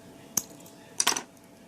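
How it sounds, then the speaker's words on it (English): Small wire cutters snip excess Kanthal coil wire, a single sharp metallic click followed by a quick cluster of tiny clicks, close and quiet. "Snip a little bit of that excess wire off."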